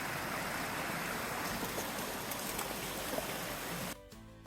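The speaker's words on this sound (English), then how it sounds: "So we crossed this little river here" A small river in the Lake District fells near Great Crag and Grange Fell rushes in a steady, loud, close wash of flowing water that drops away abruptly near the end, with no voices.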